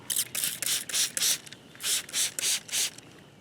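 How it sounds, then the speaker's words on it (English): A small hand spray bottle mists peroxide onto saw teeth in about eight quick, hissing squirts, fairly close and steady in rhythm with short gaps between pumps. "make sure that I spray that down thoroughly with peroxide. I like to just use a little hand bottle"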